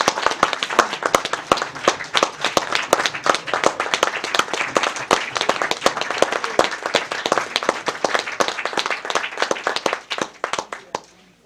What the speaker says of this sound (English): give Ginny a very warm round of applause